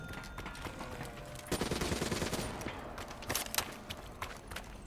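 Automatic RCR rifle fire in a Call of Duty Zombies match on the Zetsubou No Shima island map, rapid bursts of loud gunshots rattling in quick succession with denser volleys partway through.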